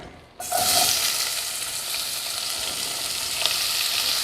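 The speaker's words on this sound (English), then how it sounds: "Okay, we're gonna go ahead and put the onions and the garlic in" Onions and garlic hitting a hot pan for broccoli cheese soup, a sudden burst of steady, bright sizzling that holds loud and even, with a faint utensil clink near the end.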